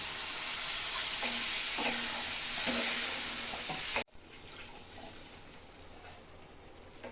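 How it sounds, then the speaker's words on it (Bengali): Water hitting sizzling fried masala for a jackfruit kofta curry gives a loud, dense hiss with a few scraping taps, then drops abruptly to a softer, steady simmering sizzle. "মশলাটা কষানো হয়ে গেছে, আমি এখন জল দিয়ে দিব।"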